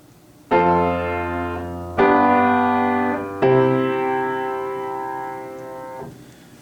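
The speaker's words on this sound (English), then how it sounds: "So a very typical harmonic progression will go from 4 to 5 to 1" A subdominant-dominant-tonic chord progression: three sustained chords struck in even succession, the last held longest before cutting off, played alone with no voices.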